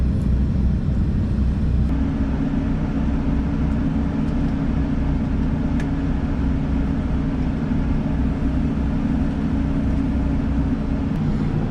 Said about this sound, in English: It appears that the hydraulic levelers still work on this.